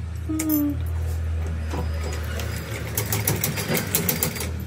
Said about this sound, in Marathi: आपली ड्रेसला शिलाई करते. फिटिंग करते.